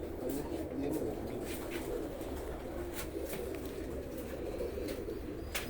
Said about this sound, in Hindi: आज यूएई के नायाब कबूतर दिखा रहे हैं